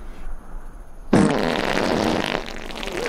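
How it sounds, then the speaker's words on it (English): Cartoonish farts burst out loud and close, starting with a sharp onset and rumbling on as a sustained, sputtering blast for over a second before trailing off, heard alone without talk. "The farts are too much."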